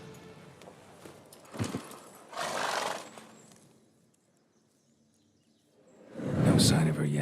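Roach the horse being reined in, in the video game The Witcher III: hoof clops and snorting bursts, then a quiet pause before a loud final burst of horse noise.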